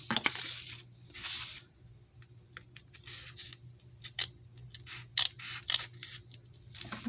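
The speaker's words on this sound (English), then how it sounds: "I'm just going to take my scissors. I just kind of cut that." Scissors trim paper for a 12x12 summer picnic scrapbook layout, a series of close, crisp snips and rustles in irregular bursts over a quiet room.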